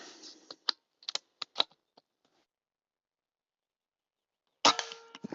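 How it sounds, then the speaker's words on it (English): A Gamo Fox air rifle with a 10-shot magazine fires at a can target outdoors in woodland, giving a few sharp, close snaps and clicks early on, then quiet, then another crisp shot and rattle near the end. "Loaded 10-shot magazine, Gamo Fox, at the can with the target on it."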